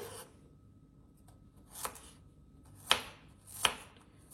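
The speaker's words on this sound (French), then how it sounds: "je viens ici couper mes gousses d'ail" A knife chops garlic cloves on a cutting board in a quiet kitchen, giving three sharp, close knocks spaced about a second apart with faint scraping between them and no talking.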